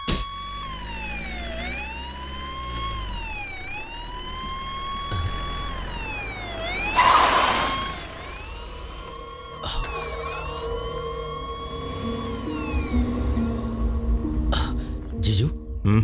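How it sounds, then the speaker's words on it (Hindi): A wailing police siren rises and falls repeatedly, fairly close, with a burst of noise midway and a few clattering hits near the end. "वो देखो पुलिस की गाड़ी आकर रुकी है"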